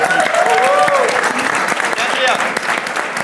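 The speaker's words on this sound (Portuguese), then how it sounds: "Palmas para ele!" A studio audience at a church-ministry talk show applauds loudly and continuously, with voices and cheering mixed through the clapping.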